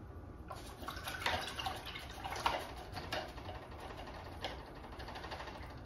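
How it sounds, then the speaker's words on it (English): Paintbrush rinsed in a water container during acrylic painting, faint clicking and tapping of the brush against the container with soft splashing, quiet and irregular. "I'm just rinsing my brush out"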